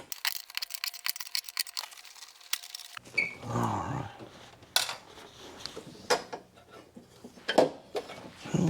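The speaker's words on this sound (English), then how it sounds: "A tiny little 8mm closed-in wrench it is." Small metal clicks and ticks from an 8mm closed-end wrench loosening a bottom trim cover on a Mercedes-Benz W126, irregular close taps and scrapes, quiet and sparse after a brief opening stretch.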